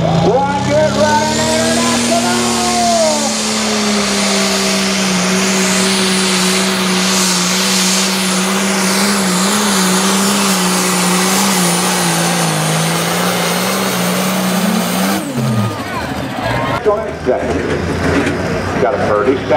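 A loud pulling tractor named Hillbilly Express roars steadily down the track at an outlaw truck-and-tractor pull, its engine note holding for about fifteen seconds before cutting off abruptly, with crowd noise trailing afterward.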